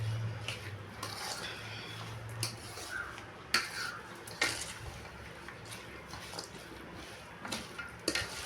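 Ingredients for Punjabi pickle being stirred and mixed in a bowl, quiet scraping with scattered sharp clinks of a utensil against the bowl at an uneven rhythm, close by and fairly soft, with no talking.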